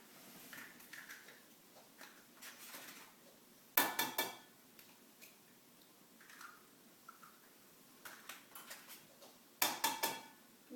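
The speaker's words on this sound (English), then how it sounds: "you're going to take 4 eggs and mix them in with your sugar and your cocoa" Eggs being mixed with sugar and cocoa in a bowl, quiet scraping and clinking of a utensil against the bowl in scattered bursts, with two louder clattering knocks standing out.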